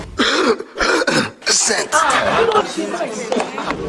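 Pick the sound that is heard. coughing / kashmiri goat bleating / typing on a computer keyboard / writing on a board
coughing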